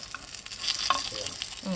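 Shengjian dumplings pan-frying in an open pan, giving a brief, close, steady sizzle with light scraping.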